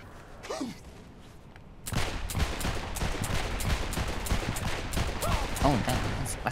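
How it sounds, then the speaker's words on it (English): Flintlock pistols fire in the video game Saints Row IV, a dense burst of loud shots after a quieter opening with a few voiced sounds, continuing steadily to the end. "We have flintlock pistols, Jay."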